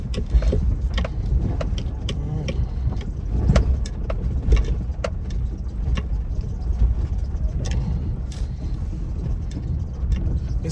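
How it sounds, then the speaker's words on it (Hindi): A car's engine roars steadily as the vehicle struggles through soft, loose mud mixed with stones on a rough Himalayan village track near Malana, with sharp clicks and knocks over a continuous loud drone. "गाड़ी निकल गई। ये यही ऐसी दिक्कत थी जब फंसे थे।"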